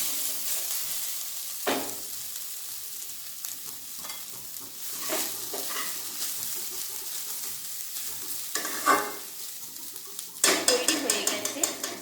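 Jeera rice with a sprinkling of chili powder tossed in a pan, giving soft scraping and stirring with a light sizzle, a few sharper clinks of utensil against the pan, and a louder rattle near the end.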